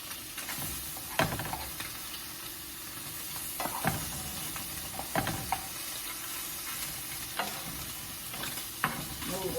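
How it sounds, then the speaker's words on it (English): Breakfast food sizzles steadily in a skillet while being turned and cut, with repeated scraping knocks of a utensil against the pan spaced every second or two over the ongoing frying hiss. "When you turn them over in the skillet, you cut them up, they cook a lot faster."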